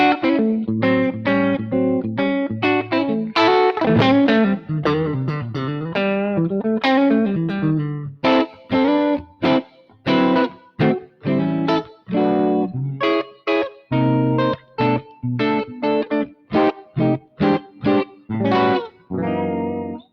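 A 1974 Gibson SG Special electric guitar played through a clean tone, with chords and single notes picked in uneven phrases, some ringing and others cut short with brief gaps, close and clear with no talking.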